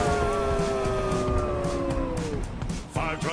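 A cartoon dog howls a wailing fire truck siren imitation, a long held rising-and-falling vocal wail that fades out near the end, followed by a brief burst of other sound.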